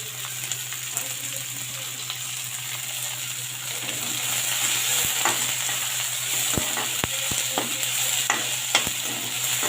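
Steady sizzling of spices, including crushed dried fenugreek, frying in hot oil for a tempering, with occasional sharp clicks of a utensil stirring against the pan, continuous and close.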